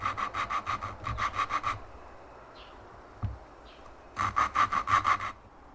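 An engine valve from a 2005 Honda Pilot is lapped against its seat with lapping compound. Two close bursts of rapid rhythmic gritty rubbing are separated by a quiet pause with a single faint tap.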